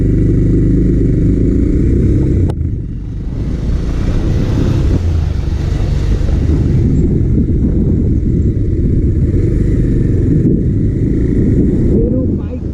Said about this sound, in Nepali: मेरो बाइकले हल्का धोका दिइरहेको छ क्लच उड्न लागेछ